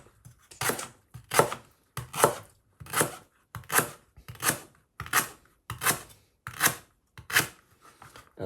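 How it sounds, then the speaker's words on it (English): Sharp knife chopping tough lemongrass on a board, ten or so crisp, evenly spaced cuts in a steady rhythm, close and clear with no talking. "You'll need a nice sharp knife for the lemongrass because it's really difficult to cut"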